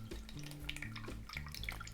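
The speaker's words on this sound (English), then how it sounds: "And the cocktail will strain through the curdled milk." A Jungle Bird cocktail dripping slowly through a very fine strainer holding curdled milk, giving a soft trickle of liquid with small irregular drips, quiet and steady, with no talking.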